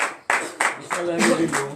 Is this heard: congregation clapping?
yes